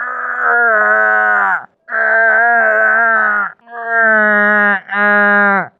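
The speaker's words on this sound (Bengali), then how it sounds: "গরুর বাছুর।" A calf moos in four long, close, drawn-out bawls with brief pauses between, loud and plaintive, with no talking or other sounds.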